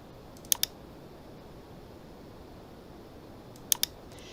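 Mouse buttons click while working in PowerPoint on a computer, two quick pairs of sharp close clicks spaced a few seconds apart against quiet room tone, with no speech.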